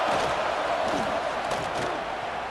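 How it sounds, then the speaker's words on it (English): A college football stadium crowd during an Ohio State versus Georgia game roars steadily on a third down, a dense, loud, unbroken wash of cheering voices. "Big 3rd down as the crowd gets behind this defense."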